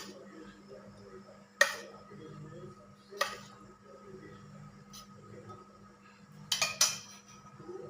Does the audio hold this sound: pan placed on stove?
yes